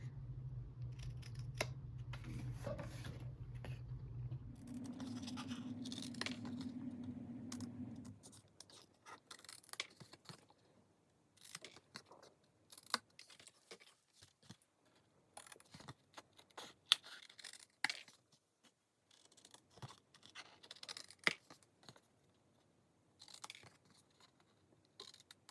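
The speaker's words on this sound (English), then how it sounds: "I'm also going to cut a little triangle out from the top edge from that score line" Scissors snip through planner pocket paper, cutting a small triangle from the top edge at a score line. A few close, sharp cuts come in scattered bursts after a brief low hum, with quiet pauses between them.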